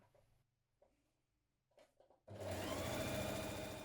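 A sewing machine stitching the underarm seam of a hoodie sleeve. A few quiet handling taps come first, then the machine starts and runs in a loud, steady, rapid rhythmic whir.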